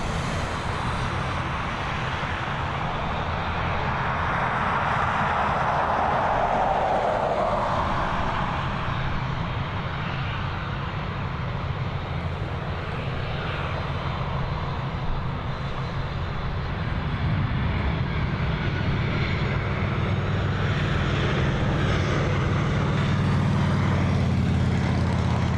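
An airplane roars steadily on its approach at Dublin Airport, a loud, continuous engine rumble and rush that holds without a break, with no talking over it.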